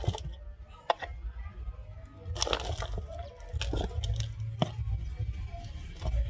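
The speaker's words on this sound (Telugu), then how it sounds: "ఇప్పుడు ఈ మట్టి మిశ్రమాన్ని ఇందులో నింపుకోవాలి." Soil mixture is scooped and filled into a grow bag at home, giving soft crunching, squishing and pattering bursts at irregular intervals, close and fairly quiet.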